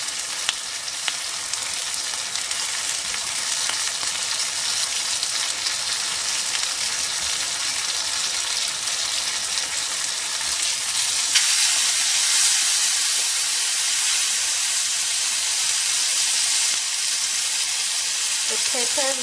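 Whole washed peppers sizzle steadily in a grilling pan, a loud, continuous frying hiss close to the microphone that barely changes from start to finish.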